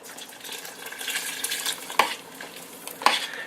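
Cornstarch slurry being stirred into a pot of chicken noodle soup, a soft continuous swishing and bubbling with two sharp clinks of a utensil against the pot, close and fairly quiet.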